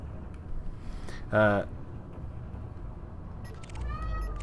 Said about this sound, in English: My cat's pretty meowy.